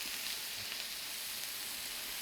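Pork fillet sizzles in a frying pan, a steady, even hiss of hot fat that stays level throughout with no talking.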